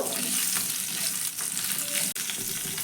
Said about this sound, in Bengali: এবার এই সব মশলাগুলো হালকা করে একটু প্রথমে ভেজে নেব